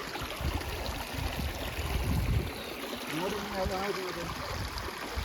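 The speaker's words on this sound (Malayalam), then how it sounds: "വെള്ളം വരുന്നതാണ് അടിപൊളി ഒന്ന് കാണിച്ചു" Water rushes along a stream near Poondi in Kodaikanal, a continuous close burble and splash, with a voice briefly heard over it partway through.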